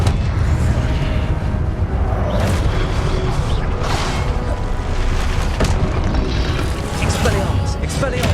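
A fire-blast Confringo spell in Hogwarts Legacy bursts amid dense, continuous combat clamor, with booming impacts and whooshes layered under shouted spell incantations throughout.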